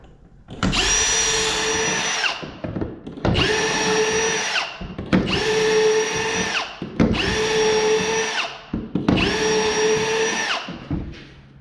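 Power drill boring holes into a room cabinet, five sustained whining bursts of roughly two seconds each with short pauses between, loud and close with no talking.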